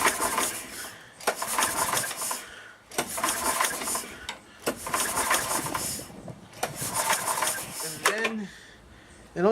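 A snow blower engine cranked by its starter cord with the spark plug out: repeated rhythmic pulls, each giving a quick rising whir and rattle, about five in a row at close range.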